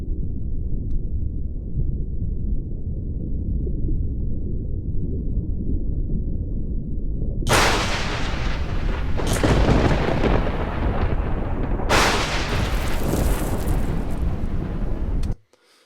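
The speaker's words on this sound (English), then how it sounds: "So altogether, that underwater sound in a compound way sounds like this." Layered underwater ice sound effect in a frozen, wintry style: a continuous low, rumbling wash that later swells with bright, crackling bursts of icy texture, loud and close, with no voices.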